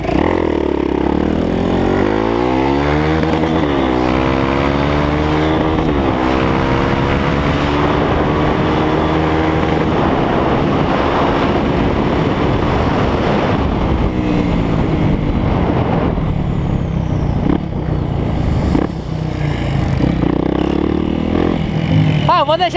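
A motorcycle engine revs loudly and repeatedly at close range during a street wheelie session, its pitch rising and falling across sustained throttle sweeps, with people talking over it.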